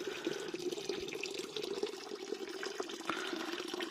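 Water scooped and poured into a container outdoors in rural northern Laos, a steady splashing, trickling flow with scattered drips and sloshes, close and continuous throughout.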